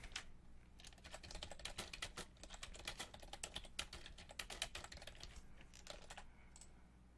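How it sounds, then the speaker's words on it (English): Continuous typing on a computer keyboard, a steady run of rapid, close-up key clicks lasting several seconds with a few short pauses, heard alone over a faint room hum. "We'll just type something in."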